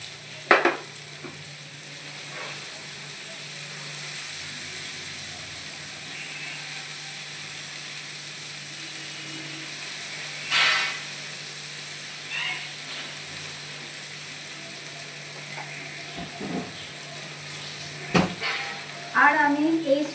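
Tomatoes with salt fry in a pan, a steady soft sizzle under a faint hum, with occasional clinks and scrapes of stirring.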